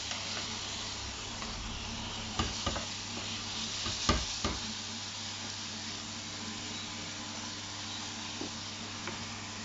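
Greek pasta for chicken youvetsi gets stirred in a saucepan over a steady sizzling, bubbling hiss, with a few scraping knocks of the spoon against the pan bottom.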